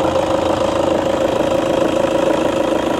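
A 2006 Toyota Vigo pickup with a 2.5-litre turbo diesel engine idling, a loud, close, steady rumble with an even throb and no voices.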